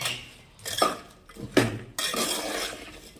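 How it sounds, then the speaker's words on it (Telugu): Masala powder being stirred into a pot of spiced rice: a few distinct metal spoon scrapes and knocks against the pot, separated by quieter gaps, close and fairly loud, with no talking. "ఇవన్నీ మంచిగా కలుపుకోవాలి. మసాలా పౌడర్ కూడా వేసాం కదా, అవన్నీ కలుపుకోవాలి."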